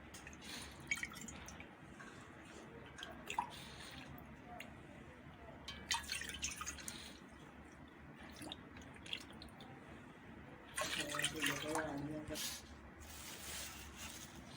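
Three cups of water go into a kadhai to make homemade Jam-e-Shirin sharbat, heard as a few short splashing, dripping pours, the clearest near the end, over a low background with talking.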